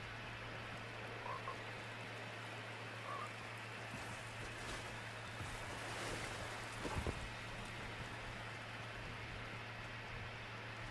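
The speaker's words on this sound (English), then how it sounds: "Oh, it's a frog." A frog croaking in Fortnite, faint sporadic croaks over a steady low hum and watery ambient wash, with a slightly louder moment near the middle.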